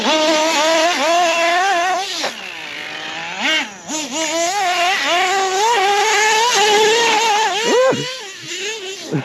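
A Hobao 10SC nitro RC truck engine buzzes with a high, raspy whine, idling and then surging up and down in pitch with repeated short revs, close and loud, with a brief dip partway through.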